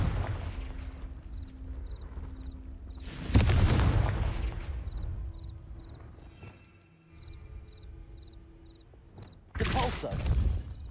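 Confringo fire spell explosions go off in Hogwarts Legacy, two heavy booming blasts separated by several seconds, set against a quiet ambient bed with a faint rhythmic insect-like chirp and a low drone.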